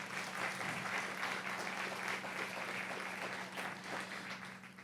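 Sustained, even applause fills a lecture hall after a museum talk, fairly distant and soft, with a low steady hum running underneath.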